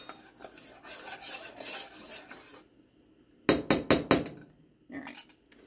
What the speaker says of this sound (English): I'm going to continue to stir it and reduce it for a while